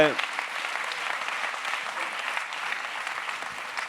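Audience applause at an award ceremony, a steady dense clapping from a crowd that holds throughout, loud and close, with no voices rising above it.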